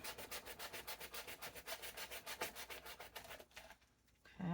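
Small scraps of sandpaper rub back and forth over the wood of a door sign in quick, even strokes, faint and close, then stop near the end.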